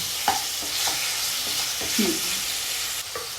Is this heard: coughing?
no